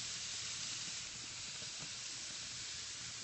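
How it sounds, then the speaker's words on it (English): A London broil steak sizzles over high heat on a Weber Genesis grill, giving a steady, faint, even hiss with no pauses. "listen to that sizzle."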